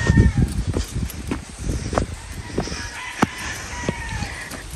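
Several chickens cluck and a rooster crows nearby, with scattered bird calls and outdoor background noise.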